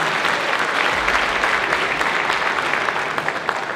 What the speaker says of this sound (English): Big round of applause for Brooklyn.